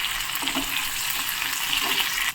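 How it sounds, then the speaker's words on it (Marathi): Green chilies sautéing in hot oil with cumin and dried fenugreek leaves in a pan, a steady, moderately quiet sizzle and crackle that runs continuously without talk. "मिरच्या छान आपल्याला आता परतून घ्यायच्या आहेत."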